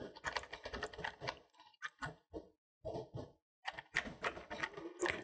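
Typing on a computer keyboard while setting up a FreeBSD mail server, close, quiet key clicks in quick irregular bursts broken by short pauses.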